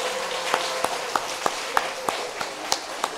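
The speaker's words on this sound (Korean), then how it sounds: "우리 박수 한번 부탁드립니다" A church congregation claps in a steady, rhythmic beat, each clap distinct and moderately close, over a soft background murmur without clear speech.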